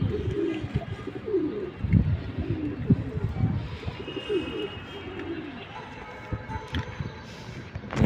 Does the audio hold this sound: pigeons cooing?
yes